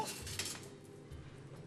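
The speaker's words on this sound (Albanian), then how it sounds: "marr një lugë të madhe këtu." A large metal spoon scrapes and clinks against a pan as filling is scooped out, a brief close kitchen sound with no talking.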